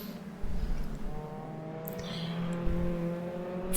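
A Volcano Red Mazda MX-5 race car in a simulated race at Laguna Seca qualifying, its engine droning steadily with a rising rev tone, fairly close, some faint tire and passing-car noise mixed in.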